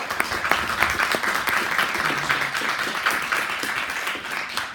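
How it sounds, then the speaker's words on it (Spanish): Steady applause from a crowd fills the room, dense clapping that holds at an even level throughout with no pauses. "Un aplauso para él, por favor."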